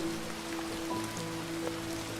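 Steady rain falls continuously on a surface, a dense wash of patter with scattered droplets, even and fairly close throughout, with a faint low hum underneath and no voices.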